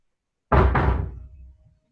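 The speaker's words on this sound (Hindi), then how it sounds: "छोटी, दरवाजा लगा दो, उधर की आवाज आ रही है" A door swings shut indoors at home with one solid, close thud and a quick second impact, fading over about a second with no talking.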